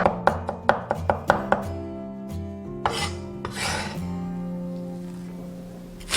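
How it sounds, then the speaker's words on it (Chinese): A knife chops crushed garlic into mince on a board, with a quick run of crisp knocks followed by a few scattered strokes over soft background music. "然后切成蒜末"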